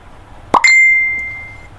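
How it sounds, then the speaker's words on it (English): A chat app message notification chimes once: a quick plop followed by a bright bell-like ding that rings on and fades over about a second. "Wow, we did get our message notification."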